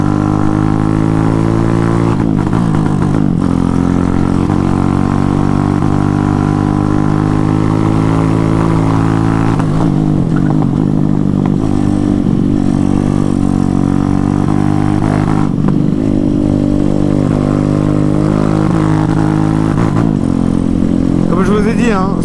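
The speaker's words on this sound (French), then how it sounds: "ce moteur il est tellement puissant que même mal réglé, il marche de fou" A poorly tuned Zongshen 212cc engine in a Honda MSX motorcycle idles and runs steadily, its low throbbing drone continuous throughout, with a few slight surges in pitch.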